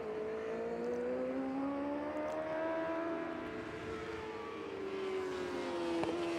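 A superbike races at Asia Road Racing Championship afternoon practice in Japan. Its high engine whine rises and falls in pitch and sweeps past at a moderate distance, with a second machine's drone underneath.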